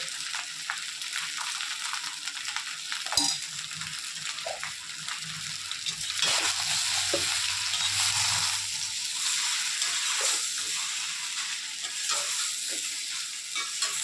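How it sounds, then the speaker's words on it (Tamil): Idli being tossed and stirred in a hot pan with curry leaf powder, a steady soft sizzle with scraping and stirring noises running throughout, close up and without talk. "எல்லா கருவேப்பிலை எல்லாம் அந்த இட்லியில் படுற மாதிரி நல்லா பிரட்டி எடுத்துக்கணும்"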